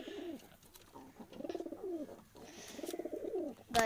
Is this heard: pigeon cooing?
yes